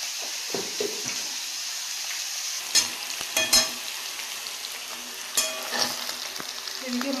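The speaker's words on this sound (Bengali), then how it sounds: "ওই মাছটা ভাজা হয়ে গেছে, পুড়ে যাচ্ছে।" Fish sizzles and crackles in a hot pan with a steady frying hiss, broken by a few sharper pops and stirring clatters, and no talking.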